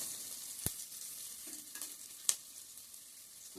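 Spices frying for coconut pulao give a faint, steady sizzle in a pan, with a couple of sharp clicks of a utensil.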